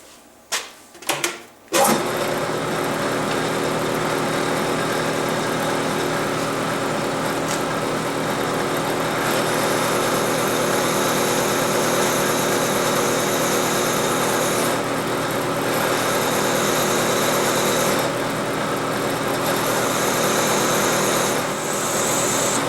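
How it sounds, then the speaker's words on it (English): A continuous high-pitched whine of a drill grinding through metal runs steadily for over twenty seconds after a few brief clicks at the start. "I'm drilling right through, and so that's what I'm about to do"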